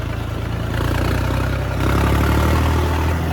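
A heavy combine harvester engine runs steadily nearby during a rice harvest, a loud continuous rumble that swells slightly partway through.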